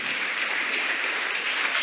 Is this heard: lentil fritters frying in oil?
no